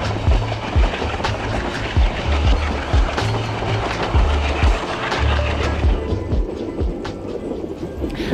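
A Peru Rail luxury train runs along the tracks by Lake Titicaca, with a continuous rumbling roll broken by repeated rhythmic clicks and clunks from the wheels, loud and close from on board.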